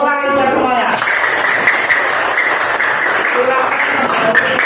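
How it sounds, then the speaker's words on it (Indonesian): Schoolchildren clap together in an elementary classroom, steady brisk applause running from start to finish, with a teacher's voice briefly heard at the beginning. "Tepuk tangan buat semuanya."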